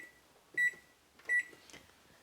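An oven timer gives two short, bright electronic beeps while the cooking time is being set. They come about a second apart over a quiet kitchen background.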